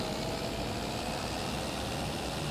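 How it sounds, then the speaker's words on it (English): A tractor engine pulling a roller across a farm field in a farming game, a steady low drone that holds evenly the whole time without pauses or voices. "Hopefully our tractor won't struggle while doing the rolling work in this field."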